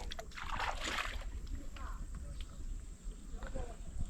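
A small wooden dinghy glides through a Sundarban waterway at falling tide, with soft water lapping and paddle knocks heard near and faint under low voices.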